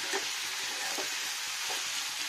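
Chopped vegetables sautéing in an oiled pan, a steady close sizzle with soft periodic scraping and stirring strokes roughly every half second, no voices.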